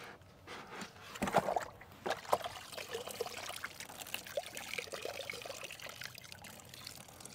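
Water pouring slowly into the reservoir of a homemade self-watering pot, irregular trickling and gurgling splashes, quiet and close, with no talking.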